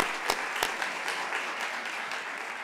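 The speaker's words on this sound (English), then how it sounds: "And now we can applaud." Audience applause at a college naming ceremony for an athenaeum symposia series, a steady wash of many hands clapping throughout with a couple of sharper claps standing out early, moderately distant and alone without talk.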